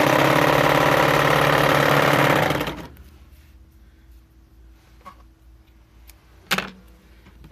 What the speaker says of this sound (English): I'm going to sew the long middle piece